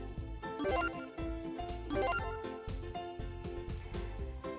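A phone ringtone on a Korean radio call-in counseling show plays a repeating melodic pattern, loud and close, looping twice with steady tones between.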